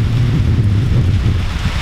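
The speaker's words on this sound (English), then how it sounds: "it's really pouring now" Heavy March rain pours down with snow lying nearby, a steady, loud, close wash of noise with a deep wind rumble running underneath throughout.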